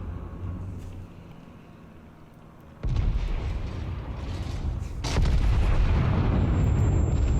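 Battleship main-gun salvo from an Iowa in World of Warships, a sudden deep booming blast followed by a second heavy report a couple of seconds later, then a sustained rumbling roar, with no talking.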